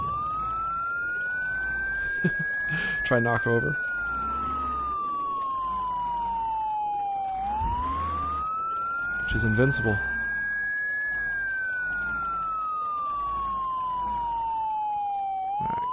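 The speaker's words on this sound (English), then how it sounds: "Let's change up the siren a bit." A police siren in the video game Project Zomboid wails in long rising and falling sweeps across the whole span, with short bursts of a faster yelp pattern, while someone talks over it.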